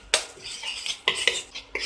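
Ginger and cumin fry in oil in a pan while a utensil stirs, giving a few sharp scrapes and clinks of metal against the pan over a soft, hissy sizzle.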